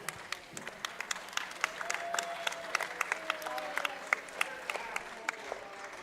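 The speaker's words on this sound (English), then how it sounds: "Really nice that they applaud the horses here." Grandstand crowd at a harness race applauding the horses, scattered sharp claps over a faint distant crowd murmur with some voices.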